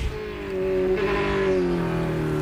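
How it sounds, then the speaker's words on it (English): Onboard engine of the Black Dog Racing Corvette race car at Watkins Glen, a steady loud drone whose pitch slowly shifts as it climbs uphill, with no talking. "On board the Black Dog Racing Corvette of Tony Gaples through the toe of the boot, the uphill climb"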